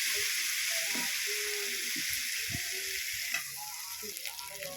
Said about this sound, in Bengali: কিছুক্ষণ আমি নেড়ে চেড়ে কষে নেব।